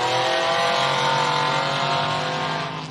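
A single-seater race car with a 6-litre engine launches off the line at a hillclimb-style event, a loud, close, sustained engine roar with rising revs that gradually fades as it pulls away.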